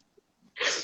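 A single sharp sneeze bursts out close to the mic after a brief quiet intake of breath.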